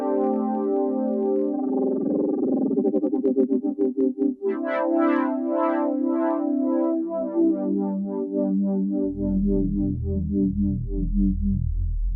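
Synth pad on a Studiologic Numa Compact 2x keyboard with light room simulation, swelling through shifting sustained chords with a wobbling, modulated texture. A deeper bass layer enters near the end, all moderately loud with no talking.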